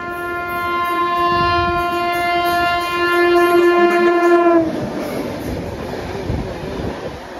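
A MEMU passenger train pulls out of Vijayawada, sounding a loud sustained horn blast for several seconds, which then gives way to rumbling wheels and track noise as the train gathers speed.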